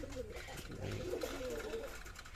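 Pigeons kept in a home loft coo softly in low, rolling calls, heard faintly against a steady background hum.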